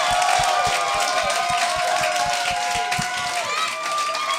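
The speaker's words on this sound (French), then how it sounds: "Mesdames et messieurs, bonne main d'applaudissements" An audience gives steady, dense applause to the guests Neev and Mike Paterson. The clapping runs without a break, with sustained musical tones ringing over it.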